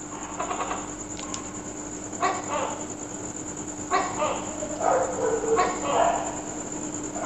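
Dogs bark at night in a residential area, a few separate bursts of barking a short distance off over a steady high-pitched hum of night insects.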